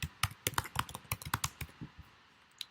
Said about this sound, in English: So let's type in a few addresses.